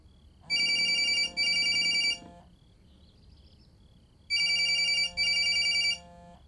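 Ringing of an outgoing video call: two pairs of bright electronic ring bursts separated by a quiet pause, loud and close with no talk.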